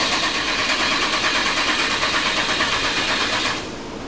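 A freshly rebuilt LS1/LS4 V8 cranks over on its first start, the starter turning it with a steady, rapid pulsing churn for about three and a half seconds before cutting off, loud and close.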